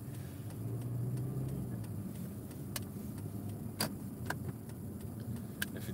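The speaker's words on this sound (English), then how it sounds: "at least my car's running now," A car engine runs at a low, steady hum close by, with a few sharp clicks and taps on top and no talking.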